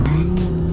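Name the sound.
1,400 horsepower Viper car accelerating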